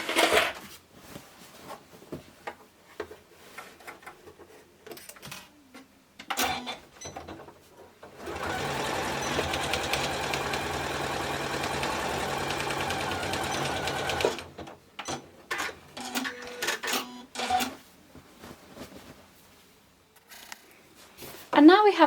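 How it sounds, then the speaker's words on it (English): A sewing machine stitches the lining of a fabric box shut, running steadily for about six seconds in the middle, with handling clicks and rustles of fabric before and after. "take it to the sewing machine and just stitch it shut"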